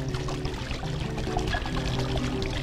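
A small pond waterfall kit pours and splashes steadily into a patio pond, a continuous close trickling wash with no talk.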